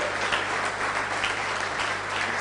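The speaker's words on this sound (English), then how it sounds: "Standing ovation for him. Standing ovation for him. Please keep clapping." Audience at an international conference on sustainable dairy production in Nigeria giving a standing ovation, dense steady clapping throughout, loud and continuous.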